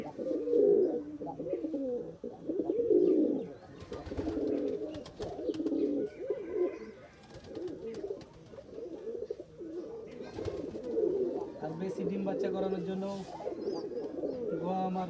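Rajshahi giribaj and racer pigeons coo together in a loft, a dense, continuous low burbling of many birds close by, with someone talking over them at times.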